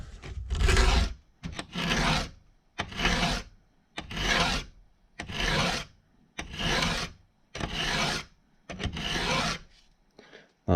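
Hand file rasping across a chainsaw chain tooth, the saw clamped in a vise, in eight steady back-and-forth strokes with short pauses between them, close and fairly loud with no talk.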